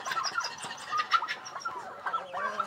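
Roosters scuffling and squabbling among farm fowl, with sharp clucks and short squawks in quick bursts, close and fairly loud, with no voices.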